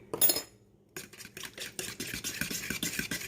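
Turkey wing marinade with garlic and parsley being stirred in a bowl, a brief clink at first, then steady close scraping and tapping strokes repeating in a quick rhythm, with no talking.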